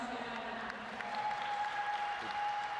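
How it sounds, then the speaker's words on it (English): Crowd applause at a modern pentathlon mixed relay final in Budapest, a steady wash of clapping heard at moderate distance under a faint tonal hum. "Good round of applause for them."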